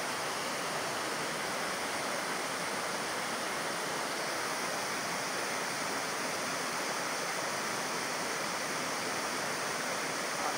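Waterfall at Águas Brancas in Três Coroas, a hilly town near the mountains, roaring as a steady, dense wash of falling water that holds a constant, full level throughout with no voices.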